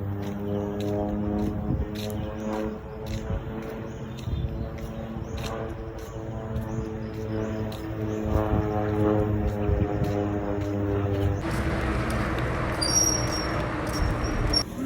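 A propeller airplane drones overhead with a steady, humming engine tone over an outdoor scene, moderately loud and sustained throughout. Background noise shifts near the end, and there is no clear talking.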